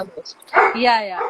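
A Labrador lets out a loud close bark that stretches into a whining yelp, with people talking briefly around it.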